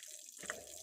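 Water runs from a tap into a sink during outdoor household washing, a steady hiss that starts abruptly partway through and continues near and moderately loud, with no voices.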